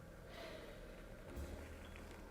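Close nasal sniffs inhaled over a glass of 114-proof bourbon whiskey in a quiet room, a short breathy draw followed by a brief snort-like intake, with no speech.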